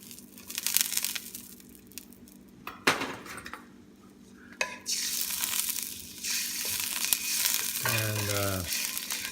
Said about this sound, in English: we'll put a little bit of oil, olive oil, and next is our garlic